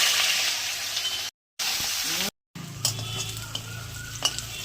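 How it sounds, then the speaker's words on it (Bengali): Nigella seeds and two dried red chillies crackling in hot oil for a tempering, a close, loud sizzle broken by two abrupt silent gaps, then quieter frying with a few light stirring clicks. "একটু কালো জিরে দিলাম ফোড়নে, দুটো শুকনো লঙ্কা দিলাম, নেবো লাল করে"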